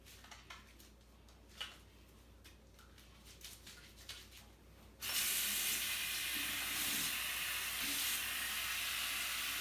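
A tap opens and water runs steadily from the faucet as hands are rinsed at a sink, starting after a few faint clicks and then hissing loudly and continuously.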